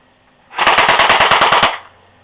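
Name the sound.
airsoft gun firing automatic bursts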